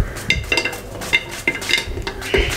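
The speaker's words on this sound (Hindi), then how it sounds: "इसके अंदर इसको मैं काटने लगा हूँ इस तरीके से, ये देखें।" A knife cuts peeled bottle gourd inside a metal pressure cooker, making a series of close, sharp clinks and taps against the pot at an irregular rhythm.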